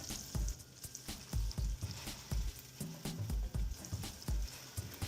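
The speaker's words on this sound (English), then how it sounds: "And while those are browning in the pan" Breakfast sandwich patties sizzle and brown in a preheated pan over medium-low heat, a steady close frying hiss broken by a run of sharp, regular pops and crackles.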